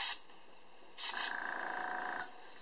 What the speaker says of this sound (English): We're going to take our airbrush, and then we're just going to test to make sure it's working.